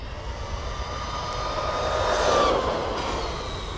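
A Traxxas Maxx RC truck on belted tires runs at full throttle, a steady, loud motor whine that swells slightly and peaks midway before easing off, with no talking.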